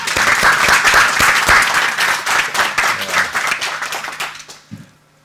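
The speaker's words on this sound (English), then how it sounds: "Give them a round of applause." An audience gives a round of applause at a talk, dense steady clapping from a crowd that gradually thins and fades out over several seconds.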